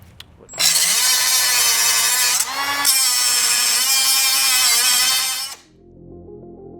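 Power tool cutting a slot into a stuck screw during an Audi RS3 install, a loud, sustained high-pitched whine with a brief dip in pitch midway, then stopping abruptly into quiet background noise.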